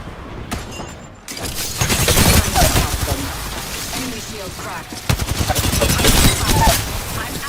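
Rapid bursts of automatic gunfire in Apex Legends on PS4 Pro, loud and close, with short pauses between volleys and heavy booming impacts.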